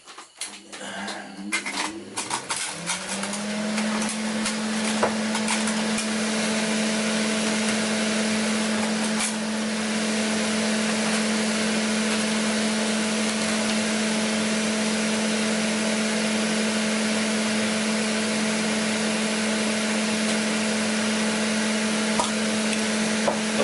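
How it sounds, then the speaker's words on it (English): A workshop exhaust fan switches on and spins up, then settles into a steady, even drone with a constant hum that runs unbroken and fairly loud for over twenty seconds. "I'm gonna switch on the exhaust fan"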